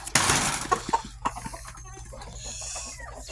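Chickens from a backyard flock cluck and call up close, with scattered sharp clucks early on and softer bird sounds trailing off, mixed with some background noise.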